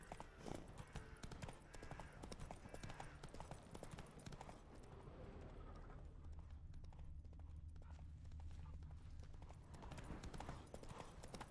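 Roach the horse trotting in The Witcher 3, rapid rhythmic clip-clop of hooves close up, continuous and steady with game ambience beneath, briefly softer in the middle.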